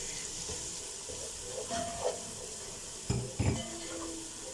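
Chana dal masala with turmeric frying in a pan for chana dal chicken, a soft steady sizzle with a few louder clanks and scrapes of stirring near the end.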